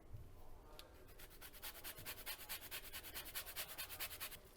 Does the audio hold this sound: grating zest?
yes